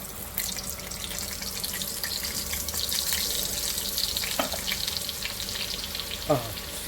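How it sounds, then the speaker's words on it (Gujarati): Garlic hits hot oil already seasoned with asafoetida, giving a steady close frying sizzle and hiss throughout, with a couple of brief utensil knocks and no talking. "હવે એમાંની અંદર લસણ નાખી દીધી છે"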